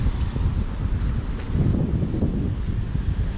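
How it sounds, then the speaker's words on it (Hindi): Wind gusts across the microphone outdoors on a cold street in Milan, a constant low rumbling buffet with no voices. "हवा चल रही है"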